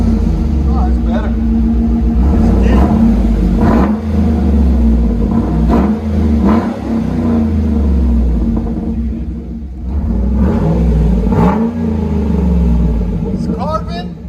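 A 2012 Chevy Silverado LS with the 5.3L V8 and a Carven R-Series side-pipe exhaust rumbles and revs in repeated throttle blips, deep and loud up close, with voices talking over it.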